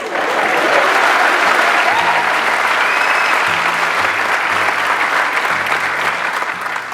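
Steady applause from a crowd, many hands clapping continuously at full volume with a faint low voice murmuring underneath.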